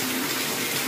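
Hot water gushes steadily from a tap into a bathtub, a loud, continuous rushing stream with no talk.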